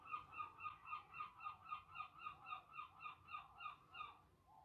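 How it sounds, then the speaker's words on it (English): Seagulls in Brighton call repeatedly in a steady rhythmic series of about fifteen squawks, fairly close and clear over quiet low background rumble, fading slightly at the end. "Oh, seagulls."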